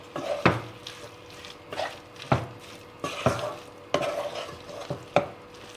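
A spoon stirs mushroom, capsicum and chapathi pieces through masala gravy in a pan, giving roughly eight distinct scraping strokes over a low sizzle.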